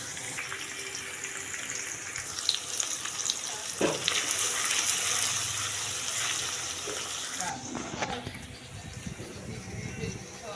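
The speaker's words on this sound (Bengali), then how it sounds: "আরেকটি কড়াইতে দিয়ে দিব পেঁয়াজ, দারচিনি, তেজপাতা, এলাচি, এগুলো দিয়ে ভালোভাবে কষিয়ে নিব।" Onion, cinnamon, bay leaf and cardamom stir-fry in a wok for biryani, sizzling with stirring scrapes and small clatters while a voice talks over it.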